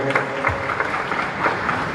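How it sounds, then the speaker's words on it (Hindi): A crowd at a political event in Bhopal applauds the Chief Minister, steady broadband clapping from many hands that holds at an even level throughout with no voice on top. "मैं चाहता हूं कि जोरदार तालियों से हम मुख्यमंत्री जी का अभिनंदन करें।"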